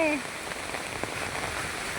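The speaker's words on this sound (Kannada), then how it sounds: "ನೋಡಿ ಮಳೆ ನೋಡಿ" Rain falls steadily and close, pattering on a surface in a dense continuous hiss, with a brief voice at the start.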